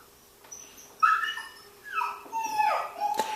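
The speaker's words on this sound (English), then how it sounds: "You can hear the background distraction of another dog in the side room there" A dog in a side room whimpers and yips in a string of high, wavering whines that rise and fall, moderately near and clear against a quiet indoor background.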